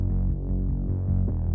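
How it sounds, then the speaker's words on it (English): A gritty Reese bass is layered with a Nexus E-Bass 1 electric bass in an EDM-rock chorus build, playing a syncopated low rhythm with steady, loud, throbbing sustained notes and no voices. "we layer that in the build section of the chorus with this electric bass from Nexus,"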